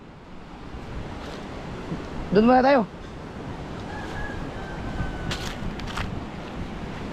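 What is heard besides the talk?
wind blowing by the sea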